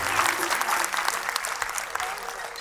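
An audience applauds a performing team, dense clapping filling the room steadily for the whole stretch.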